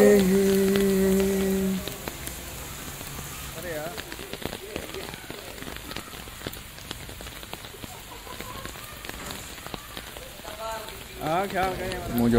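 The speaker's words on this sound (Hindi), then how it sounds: "मुंहिंजो प्यारो पुटु अबू बकर, अॼु असीं बारिश में इंजॉय कयूं था" Rain falling at a home in Sindh gives a soft, steady patter throughout, with a louder musical passage at the start and brief voices over the hiss.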